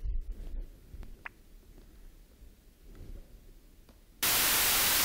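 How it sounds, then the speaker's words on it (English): A few seconds of low, rumbling background hiss, then a sudden burst of loud, steady white noise hissing evenly across all pitches. "So what we've got here is some white noise."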